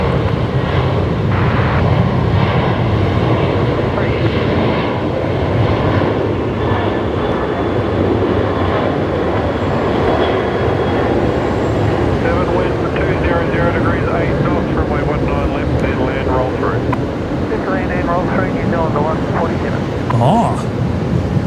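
A jet airliner lands at Brisbane Airport, its loud, steady broadband roar rumbling on for about twenty seconds, heard from nearby with voices talking over it.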